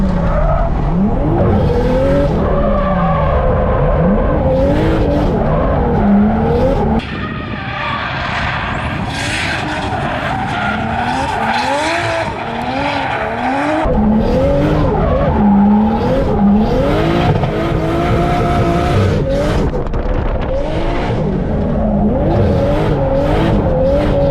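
A coupe's engine revs hard up and down continuously, with tires squealing and skidding close by, loud and sustained throughout.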